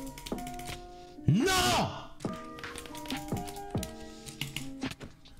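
Typing and key clatter on a cheap gaming keyboard during gameplay, soft taps scattered under game music and sound effects, with a loud burst near the middle and a brief shout from a player.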